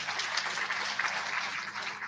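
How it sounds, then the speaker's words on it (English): A church congregation at a funeral farewell claps together, a fairly faint, sustained patter of many hands with small uneven bursts, heard alone without talk. "Can we clap for Brother Saul?"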